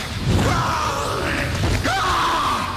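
A man yells and screams mid-fight in a Mortal Kombat Conquest scene, the drawn-out wavering cries loud over a noisy action soundtrack.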